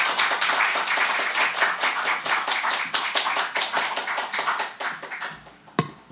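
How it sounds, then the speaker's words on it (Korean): Church congregation clapping to welcome a pastor to the pulpit at a Sunday worship service, a steady, fairly close burst of many hands that thins out and fades near the end with one last clap. "나오실 때 박수로 환영해 주시기 바랍니다"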